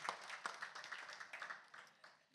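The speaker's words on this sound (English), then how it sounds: "let's clap her for staging an extraordinary event" Faint, scattered audience clapping at a panel discussion, the separate claps distinct and uneven throughout.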